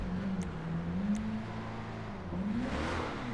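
The engine of a Declasse Drift Walton pickup in GTA 5, modeled on a 1982–1993 Chevrolet S-10, hums steadily, then its revs climb and swell again near the end.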